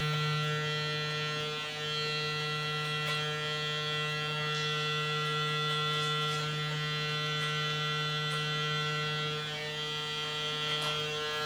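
Electric hair clippers run in a steady, close, continuous buzz with a strong mains-like hum during a low taper fade, lever being worked, with no pauses and no talk.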